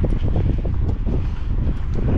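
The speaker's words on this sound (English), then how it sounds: "It's getting windy again." Wind gusts outdoors across derelict buildings and waste land in Barrow, a steady, loud low rumble buffeting the microphone with no clear pauses.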